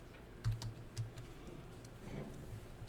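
Quiet, scattered keystrokes on a computer keyboard as data is entered, a few sharper taps standing out against a low background hum, with no talking.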